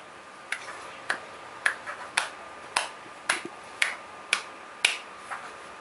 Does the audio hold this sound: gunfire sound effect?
no